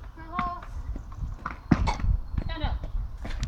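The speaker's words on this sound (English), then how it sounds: "No, it's a horse." A horse's hooves clip-clop on a hard surface at a walking pace, close by, while people talk over the steps.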